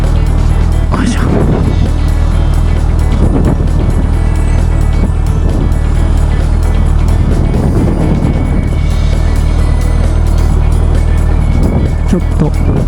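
A new Suzuki Hayabusa motorcycle's engine drones loudly and steadily as the throttle is twisted in C mode, with wind rush and some swelling revs throughout.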